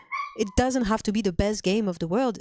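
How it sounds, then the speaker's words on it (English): A streamer's dog whines and yips in short, high-pitched bursts near the microphone, mixed in with the streamer's steady talking. "Sorry for the dog noises."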